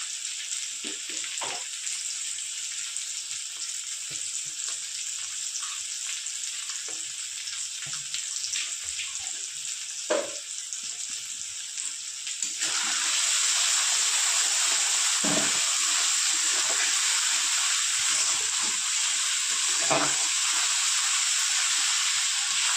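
Ginger and garlic stir-fried in a pan with salt give a steady, close frying sizzle throughout, with scattered soft stirring knocks, growing louder and brighter partway through.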